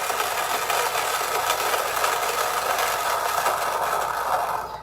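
A burr coffee grinder grinds light roast Bekele coffee beans at about 60 RPM, giving a steady, close whirring rasp with a faint rattle that holds level throughout and cuts off at the very end.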